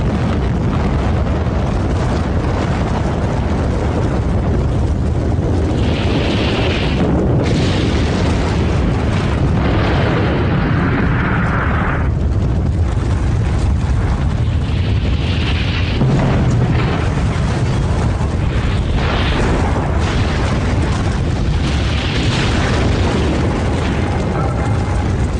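Big explosions from film scenes boom and roar continuously, loud and dense, with rumbling blasts rolling over one another throughout.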